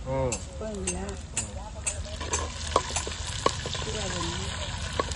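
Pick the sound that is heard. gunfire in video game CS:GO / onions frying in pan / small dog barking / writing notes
onions frying in pan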